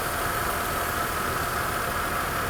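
Mercedes R129 300SL engine running after repair of its faulty fuel distributor, a steady, even hum with no changes in pitch or load.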